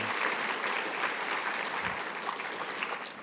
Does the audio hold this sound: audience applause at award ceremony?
yes